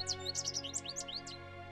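Finches, common backyard feeder birds, sing and call in a quick run of bright, high chirps and twitters, fairly quiet and close, with no other sounds.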